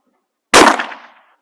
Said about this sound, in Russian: Вот, прямо в дребезги мы выстреливаем.